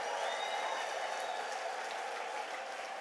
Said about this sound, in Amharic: እልልታ፣ ጭብጨባ፣ ምስጋና ታመጣለህ።